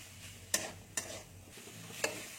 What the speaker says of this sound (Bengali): আমি একটু নাড়তে রয়েছি